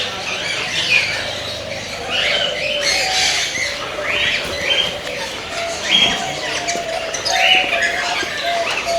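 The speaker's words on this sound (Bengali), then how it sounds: "পাখির কিচিরমিচির" Many birds at a bird farm in a garden chirp and squawk at once, a busy chorus of overlapping calls close by, with bursts of louder squawks rising over the steady chatter.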